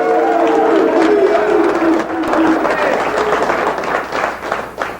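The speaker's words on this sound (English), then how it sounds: "Let's give you guys a nice big round of applause." A studio audience at a live variety show applauds and cheers loudly for a visiting football team, with a dense wash of clapping and shouts throughout.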